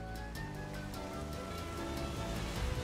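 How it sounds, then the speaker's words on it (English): Steady rain falls in the Pokemon Sword & Shield video game as a dense, even hiss of drops that holds at a constant level throughout with no other sounds. "Oh, it's raining."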